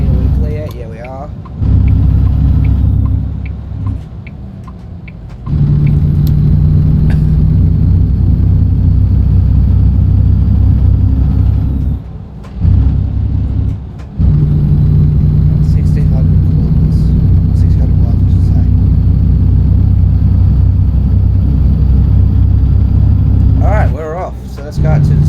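A 700-horsepower truck engine from American Truck Simulator drones with a low, steady rumble while someone talks over it, the sound dropping out briefly a few times.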